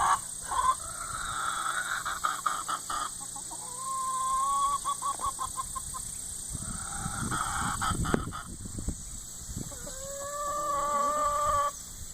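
Barred Rock hens cluck and murmur nearby in scattered bursts, with rising warbling calls and rhythmic clucks over a quiet background hum.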